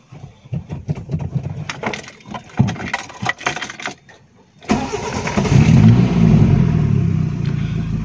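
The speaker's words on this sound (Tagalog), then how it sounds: "Kasi kapag once na ini-start na natin yan, ang ating sasakyan, i-start natin." A car engine cranks over with a stuttering starter whir for several seconds, pauses, then catches and settles into a steady, close idle while a battery and alternator are being checked.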